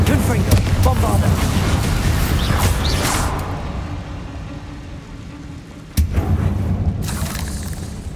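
Explosive Confringo and Bombarda spells cast in a video game, deep booming blasts with whooshes over a dense rumble, followed by a sudden sharp impact near the end.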